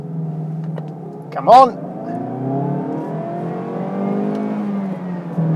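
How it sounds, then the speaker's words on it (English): Mazda 2 Mk3 (2022) small petrol engine pulling hard during a launch from standstill, a steady rising drone of revs throughout, with a brief spoken exclamation over it. "A nice little sound this engine makes."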